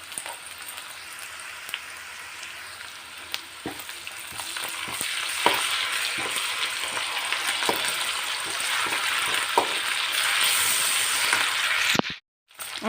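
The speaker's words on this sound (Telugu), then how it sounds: "కొంచెం బ్రౌన్ కలర్ వచ్చేంత వరకు వేయించుకోవాలి." Ingredients fry and sizzle steadily in a pan with ginger-garlic paste for a masala curry, browning under a continuous crackling hiss with occasional stirring clicks, no talk, before a brief dropout near the end.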